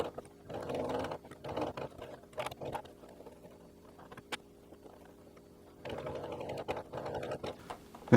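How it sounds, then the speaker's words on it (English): A sewing machine stitches seams in jute twine in short bursts of quick, even mechanical chatter, pausing in between as the work is turned at corners; close and fairly quiet, with no talking. "I'm just going to leave my needle down, lift my presser foot, turn it, and keep going."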